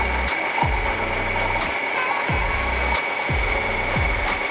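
A coffee machine whirs steadily with a rhythmic low pumping pulse repeating about once per second, a constant hum with a high tone above it.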